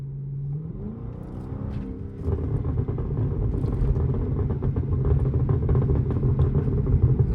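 A Chrysler 300 SRT with a burble exhaust tune rumbles low and deep while driving, swelling louder after a couple of seconds and holding a steady growl.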